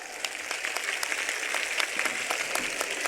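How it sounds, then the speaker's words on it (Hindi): Crowd applause at a political rally speech in Bhadra, a steady wash of many hands clapping, moderately faint and distant, lasting several seconds with no talk over it. "जोरदार ताली के साथ"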